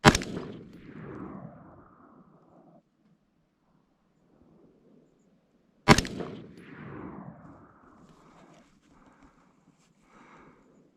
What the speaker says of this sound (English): the next rounds will be 62 grain, and I'll be shooting at the center